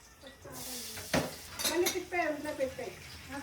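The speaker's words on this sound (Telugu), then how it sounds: "for the very first time నేను ఈరోజు స్టెయిన్లెస్ స్టీల్ కడాయిలో ఆలూ ఫ్రై చేస్తున్నాను" Potato fry being stirred in a stainless steel kadai, with a spatula scraping and clinking against the metal pan in a few close bursts over a soft sizzle.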